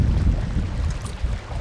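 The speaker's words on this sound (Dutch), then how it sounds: "Het waait denk ik windkracht 3, Lisette, zoiets." Wind blows hard across an Alpine mountain lake, making a low, steady rumble and buffeting close to the microphone, with a faint boat-on-water wash underneath.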